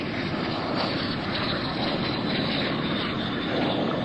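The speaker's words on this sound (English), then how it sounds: "These airplanes are relatively new." Propeller-driven racing airplanes at an air show roar past in a continuous, loud, steady drone of engine noise that fills the whole stretch without a break.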